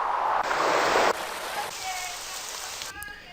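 Game-style ambience of rain with sea, storm and wind: a loud hiss of rainfall swells and drops in abrupt sections, with a thin high whine and faint bubbly tones surfacing later.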